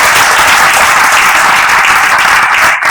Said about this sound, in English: Of course, one loud round of applause to Sanjana.